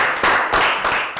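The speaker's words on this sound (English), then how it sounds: "can I get a round of applause, please, for my two assistants, Lakgao and Bangpon" A classroom of students applauds two student assistants, with a short burst of dense clapping that rises and falls in a few waves over about a second.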